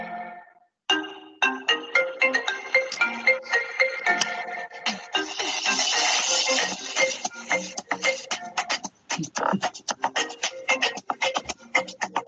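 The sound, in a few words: iPhone ringtone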